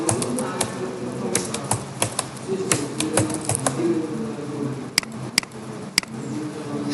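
Keys clacking on a computer keyboard in an irregular run of close, sharp taps, with a few louder isolated strikes near the end like the enter key being pressed, over a low steady room hum.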